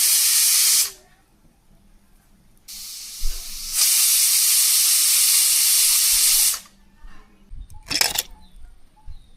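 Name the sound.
pressure cooker whistling with steam while cooking mutton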